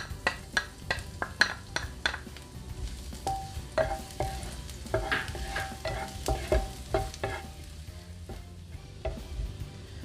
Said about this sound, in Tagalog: Yung heat, lagay tayo ng konting mantika. Add natin yung garlic.